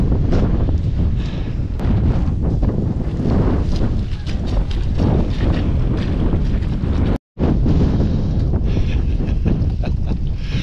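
Strong wind gusting up to 64 mph on an exposed Peak District hillside buffets the microphone in loud, rumbling gusts that roar continuously, cutting out for a moment before returning.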